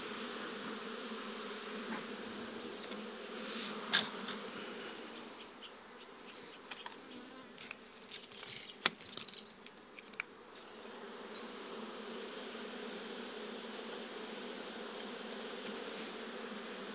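Honeybees buzz in a dense, steady drone while a beekeeper opens a hive to check whether the colony is preparing to swarm. Close buzzing runs throughout, with occasional louder passes and a few sharp clicks from the frames.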